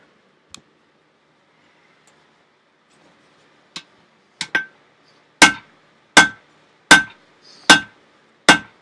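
Hammer striking metal at a coke-fired blacksmith forge: a few scattered taps, then a run of six loud, evenly spaced ringing blows close by, each decaying with a bright metallic tone.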